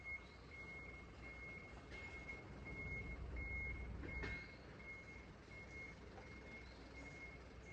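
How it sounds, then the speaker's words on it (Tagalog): A truck arrives on a rural property in Japan, its reversing alarm beeping in regular short bursts over a low engine rumble. A sharp knock comes partway through, with no talk. "May dumating na sasakyan."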